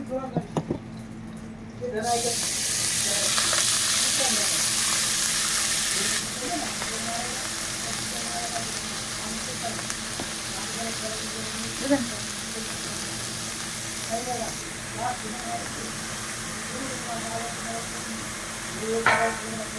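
Fenugreek leaves being sautéed with cooked mutton in a pan give off a steady sizzle and hiss, louder at first, then a lower frying crackle with occasional stirring scrapes, and a voice speaks over it.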